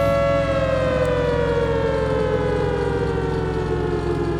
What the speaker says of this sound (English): the needle's in the yellow zone, so now the sirens are going off.